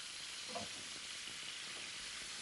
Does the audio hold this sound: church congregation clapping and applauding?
no